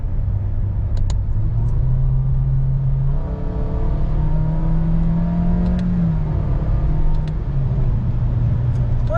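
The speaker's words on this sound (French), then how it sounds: "Voyons un peu qu'est-ce qu'elle donne, cette voiture." A Honda Jazz small car accelerates in manual mode from about 50 km/h, its engine note rising and then shifting pitch mid-pull, a steady close interior drone with road rumble throughout.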